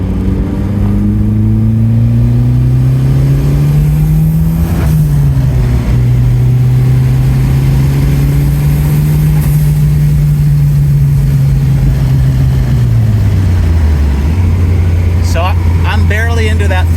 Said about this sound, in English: Barely into that throttle. There's a lot more to go.